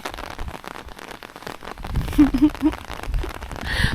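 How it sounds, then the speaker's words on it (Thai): Steady rain patters on a surface nearby at a campsite, a dense crackling wash with a few louder drops and faint voices underneath. "ฝนตกค่ะ"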